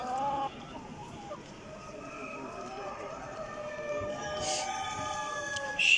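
A rooster clucks among other poultry at a national exhibition hall, soft intermittent calls under a busy background of other birds and people talking nearby.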